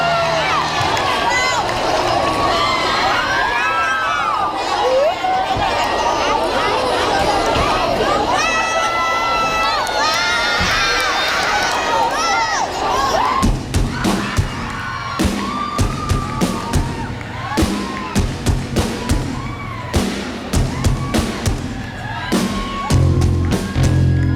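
A concert crowd cheers and shouts through a live rock performance of a cover song, loud and continuous at first, then mixing with sharp band hits and drum accents as the music takes over.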